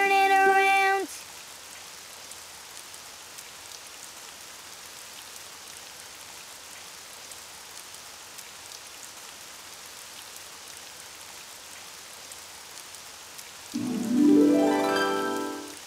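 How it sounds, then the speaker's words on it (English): Steady rain falls outside, a soft even hiss of drops that continues throughout, with brief musical notes at the start and a voice near the end. "Oh, it's raining outside."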